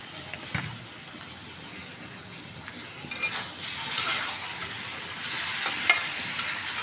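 Bitter gourd with small dried shrimp fries in a pan, a soft steady sizzle with a few clinks and scrapes as it is stirred, growing a little louder midway. It is close, with no talking.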